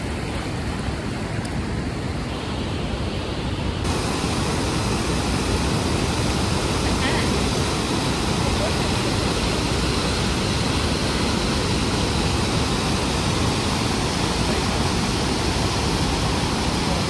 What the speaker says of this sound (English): There are pools and waterfalls here.